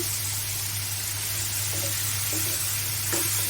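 Boiled malabar spinach and fried shrimp are stir-fried in oil, giving a constant close sizzle with scattered scrapes and clicks of stirring over a low steady hum.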